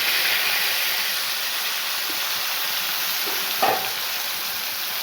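Constant loud hiss of masala sizzling in hot oil for an eggplant fry, steady throughout, with a faint clink partway through and no talking.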